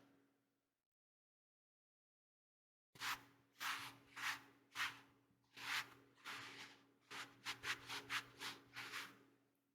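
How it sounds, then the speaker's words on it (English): A wet cloth wipes and scrubs across a face. After a few seconds of silence come close, soft rubbing strokes, several longer swipes and then a quicker run of short scrubbing rubs, with no talk. "I'll just wipe your face down with this wet cloth"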